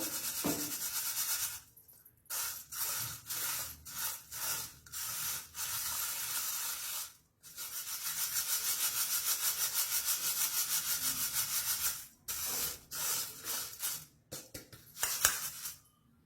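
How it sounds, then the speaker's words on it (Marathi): Puffed rice (murmura) shaken through a sieve a little at a time, a close, dry rubbing rustle in repeated bursts with short pauses between batches. "ह्या चाळणीने चाळून घ्यायचे बघा, थोडं थोडं करून आपल्याला हे सर्व चाळून घेणार आहे मी"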